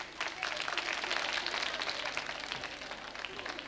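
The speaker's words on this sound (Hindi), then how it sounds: "तालियां जोरों से बजाइए।" Applause from a college audience at a Holi quiz show, dense and steady clapping throughout, fairly near and moderately loud with no clear voices over it.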